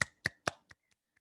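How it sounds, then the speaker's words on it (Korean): A few people in a small group clap for themselves: three sharp, close claps followed by two or three fading, softer ones, with no talking. "칭찬의 격려의 박수 한번 주세요"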